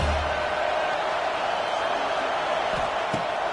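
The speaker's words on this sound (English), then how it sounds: "This crowd knows this defense needs them right now." Football stadium crowd roaring in support of the defense, a steady dense wash of cheering that stays loud and continuous throughout, with no talk over it.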